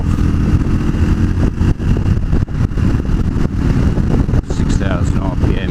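A Honda CB250RS motorcycle engine runs loud and close at a steady high rev, its drone continuous with brief dips, while a person talks over it.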